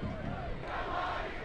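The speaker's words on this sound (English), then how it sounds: "Another outstanding crowd on hand here at Carroll Stadium." A large soccer crowd at Carroll Stadium in Indianapolis, watching Indy Eleven host the Carolina RailHawks, gives off a dense, steady roar of cheering and shouting that stays loud for the whole brief stretch.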